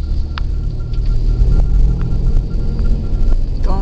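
Steady low engine rumble and road hum inside a moving car on a trip to the post office, with a pet goose riding in the passenger seat in Sebastopol; the drone runs continuously, fairly loud and close, with faint clicks over it.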